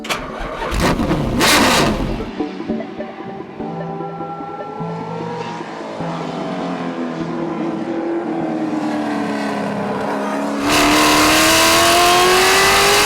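A 1983 March 83G race car's V8 engine fires up with a sharp burst, then settles into a loud, rough idle and climbs into sustained revving that swells again near the end, close by.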